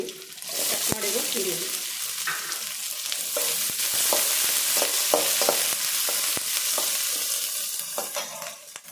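Garlic and onion fry in a hot pan with a steady, close sizzle, broken by frequent sharp scrapes and clicks of stirring throughout.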